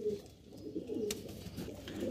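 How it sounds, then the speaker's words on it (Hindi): Pigeons, Garra-type birds at a Lucknow pigeon sale, give low soft throaty coos repeatedly over a steady background murmur, nearby and moderately quiet, with no speech. "ये देखिए गर्रा कबूतर"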